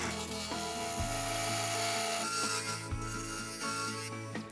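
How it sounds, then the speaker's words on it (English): A skew chisel taking a finishing cut on wood spinning in a lathe, a continuous close scraping hiss over the steady motor hum, with a few brief tool catches and no talk. "Raise the tool rest up for the skew, remember. And we'll just do a nice little finishing cut."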